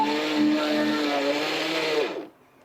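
A mixer grinder runs with its lid off, a loud, steady, close whirring drone with a faint pitch wobble that slows and cuts out near the end.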